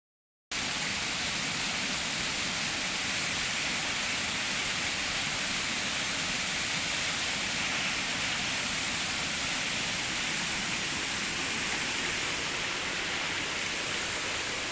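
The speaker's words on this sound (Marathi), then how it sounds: "नॅचरल धबधबा नॅचरल वॉटरफॉल अगदी निसर्गाची उधळण जी आसा कोकणार ती अशी आसा पाणीच पाणी" A natural waterfall in the Konkan region roars with a dense, steady rush of falling water that is loud, continuous and close, with no voices over it.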